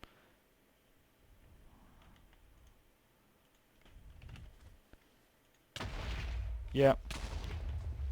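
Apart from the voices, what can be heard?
explosion in the video game Minecraft (FTB modpack)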